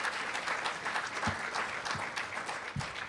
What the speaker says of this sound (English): Let's give her a round of applause for it.